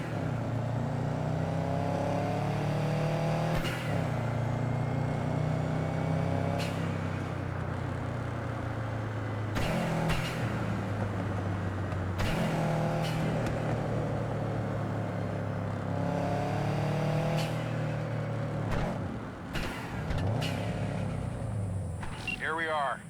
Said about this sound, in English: Go ahead, kill the engine.